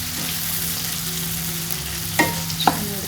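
Ingredients for tomato chitranna sizzle steadily in a hot pan, a constant close frying hiss broken near the end by a couple of sharp clinks of stirring.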